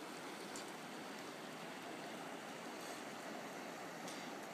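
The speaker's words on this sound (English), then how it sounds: "you can hear Fish Creek flowing in the background" Steady broadband rush of flowing water from Fish Creek, a mountain creek, running continuously in the background, fairly faint.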